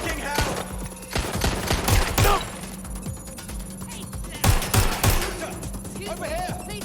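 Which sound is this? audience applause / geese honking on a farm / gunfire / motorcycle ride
gunfire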